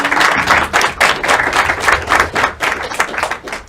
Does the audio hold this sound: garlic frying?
no